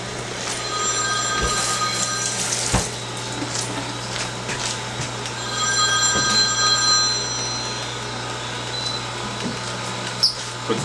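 A telephone rings in a kitchen during fruit smoothie preparation, repeated ringing bursts at moderate volume over steady background hum, no talking.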